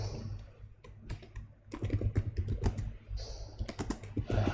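Quick bursts of typing on a computer keyboard as a message is written, crisp close key clicks in uneven runs with a brief pause partway through.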